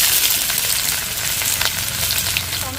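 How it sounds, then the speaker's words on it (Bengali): Chopped onion hits hot oil in a pan, giving a loud, dense sizzle and crackle that stays strong and steady, with faint scraping of stirring underneath and no talking. "তেল গরম হয়ে গেছে, দিয়ে দিচ্ছি পেঁয়াজ কুচি"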